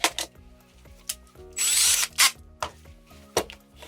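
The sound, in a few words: power drill drilling holes in plastic mount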